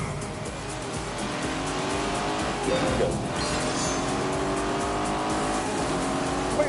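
A Lamborghini with a 4-litre V8 laps a specially designed test track, its engine roaring steadily while the tires squeal loudly throughout, with a brief shout at the start.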